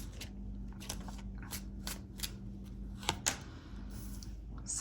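Lenormand cards are shuffled by hand in quick bursts of papery riffling and soft slaps, close up and with no voice.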